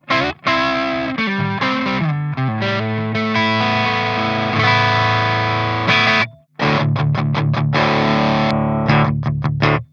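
An electric guitar plays through an amp with a tube-screamer-style overdrive run in parallel with the clean signal, giving a bluesy, distorted tone: sustained chords, then a burst of choppy repeated strums, loud and up front.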